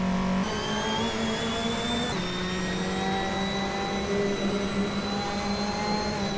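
Turbocharged 2016 Subaru Impreza WRX racing in the GT4 class of a video game, a loud sustained engine whine with shifting harmonic pitch and a gear change early on, no talk.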